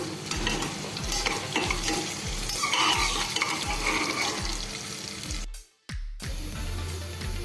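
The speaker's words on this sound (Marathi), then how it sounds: "कांदा आपण थोडा परतून घ्यायचा आहे थोडासा गुलाबी रंग येईपर्यंत" Chopped onion sautés in oil in a pressure cooker for veg paneer pulao, with loud stirring scrapes and a constant sizzle, then a brief pause before frying resumes.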